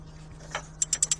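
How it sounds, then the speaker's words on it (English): A Torx 12 socket on a ratchet backs out the auxiliary belt tensioner bolt on a Chevrolet Aveo. One soft scrape is followed by four quick, crisp ratchet clicks close up in a quiet space. "So that is the Torx 12 socket to remove the tensioner bolt."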